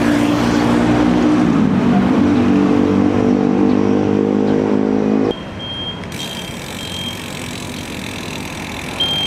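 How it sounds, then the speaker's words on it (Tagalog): A jeep passing on a road beside a bike trail at Lancaster in Cavite, its loud engine rumble sweeping close by, then dropping away to a quieter background hum with a thin high whine. "Jeep."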